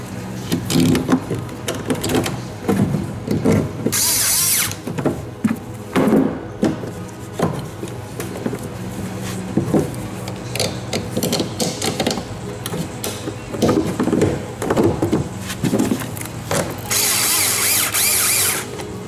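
Power drill driving screws during a Ford factory fifth-wheel/gooseneck hitch prep package install, with repeated ratcheting bursts and whirring runs through the clip, loud and close, with no talk.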